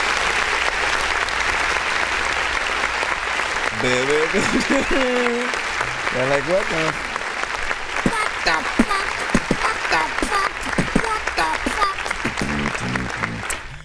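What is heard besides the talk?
applause sound effect from a clap button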